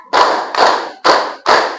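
Four crisp, loud group claps in even rhythm, each a dense burst from many hands together, at a women's PKK outreach contest in Menukung, Melawi.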